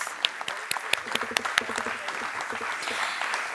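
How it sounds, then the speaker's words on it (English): An audience at a music and arts awards ceremony applauds with sustained crisp clapping and a few sharp, louder claps standing out, while a voice speaks faintly over the crowd. "May we have a bigger round of applause?"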